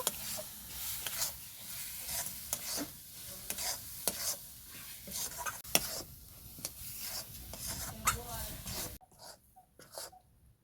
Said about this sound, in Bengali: এইভাবে নেড়ে নেড়ে মিক্স করে নেব।